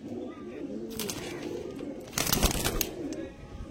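Pigeons at a sale coo in low, rolling murmurs, joined midway by a louder burst of fluttering and scuffling, fairly close with a steady background hum.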